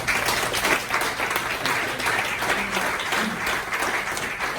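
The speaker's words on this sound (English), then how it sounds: "give him a big round of applause" Sustained audience applause fills a fundraiser event in Franklin, Tennessee, a dense, steady wash of many hands clapping at close range, with a few voices faintly mixed in.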